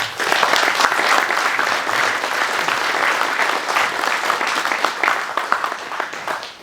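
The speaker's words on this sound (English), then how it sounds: "I want to give an applause." Audience applause at a military retirement ceremony, a steady dense wash of clapping from a large crowd, loud and continuous with no voices.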